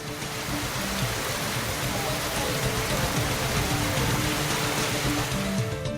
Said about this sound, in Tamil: காற்றுடன் கனமழை பெய்தது